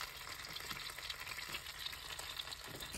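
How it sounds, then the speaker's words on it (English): Food frying on a small stove inside a car being lived in, a steady soft sizzle with faint stirring running evenly throughout, quiet and close, with no talking. "got some food cooking over there, so it smells good"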